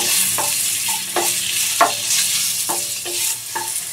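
Boiled potatoes with cumin, green chilli, peanuts and turmeric are stirred in a pan on a low flame, a steady frying sizzle broken by repeated scraping spoon strokes, close and fairly loud.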